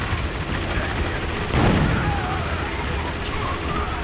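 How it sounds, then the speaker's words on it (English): A grenade blast amid gunfire in the Spec Ops: The Line co-op shooter, a dense rattle of shots with one heavier burst in the middle, loud and close. "Oh god, it's a grenade."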